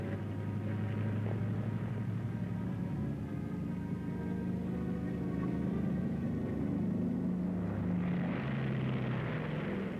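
The XS-1 experimental aircraft in flight, a continuous heavy engine roar and rumble with a steady droning tone, sustained and even throughout, swelling slightly near the end.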